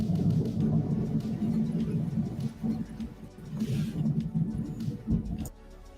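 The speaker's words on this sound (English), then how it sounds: "I've got a thunderstorm going on right now." A thunderstorm rumbles low and continuously in the background, a deep rolling growl that swells and fades, with a brief quieter gap near the end.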